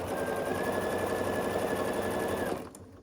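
A sewing machine stitches a quilt block in one steady, continuous run of rapid mechanical whirring, close and alone, stopping abruptly near the end.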